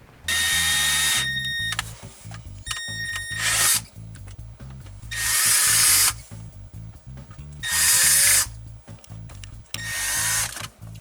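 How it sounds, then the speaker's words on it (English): A power drill bores holes into a vehicle armrest for mounting a MOLLE panel, cutting in several loud whining bursts separated by short pauses. "It is actually a 1964 drill bit."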